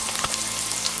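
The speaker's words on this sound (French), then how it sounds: "je fais roussir mes oignons" Onions browning in a frying pan give a steady, close sizzle with soft crackles, a brief burst of frying noise with no voices.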